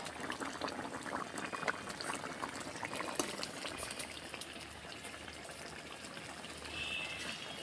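A pot of egg curry boils with a continuous, soft, busy bubbling and gurgling, steady and close with no break throughout.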